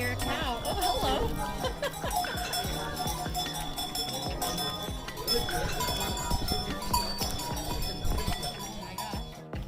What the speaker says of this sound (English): I think I hear a cow.